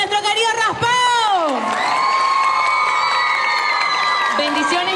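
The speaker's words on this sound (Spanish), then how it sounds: "Por favor, un fuerte aplauso para nuestro querido Raspado." A crowd at a live costume singing-competition show in a Panama shopping mall cheers loudly for five seconds, with whooping voices and sustained shouted tones that rise and fall over steady crowd noise.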